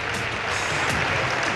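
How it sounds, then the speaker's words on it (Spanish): Applause from a party's benches in the Spanish parliament (Congreso), a dense continuous wash of many hands clapping at steady loudness. "le han recompensado con fuertes aplausos"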